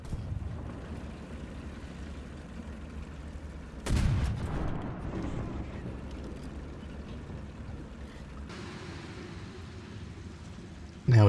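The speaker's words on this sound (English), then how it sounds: "Take a shot at him, and blow up his ammo" A War Thunder tank battle with the FV4202: a heavy cannon boom erupts mid-way, followed by a rumbling tail, and another loud blast hits right at the end, set against a low, steady engine drone.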